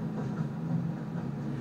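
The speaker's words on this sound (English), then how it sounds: "Well, I'm riding on the train now." Steam train in Minecraft rolling along the track, a steady low rumble with faint rhythmic clatter, continuous and moderately loud with no talking.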